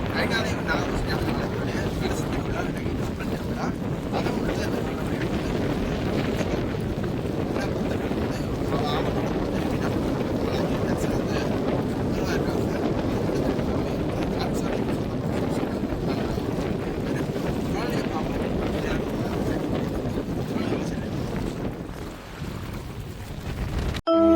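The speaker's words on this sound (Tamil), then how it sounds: "கடற்படை இந்த படகு பார்த்தீங்கன்னா இப்போ பாதுகாப்பில் ஈடுபடும்." A navy patrol boat out on the sea, heard from on board as a steady rushing roar of wind, engine and water, with voices talking faintly underneath.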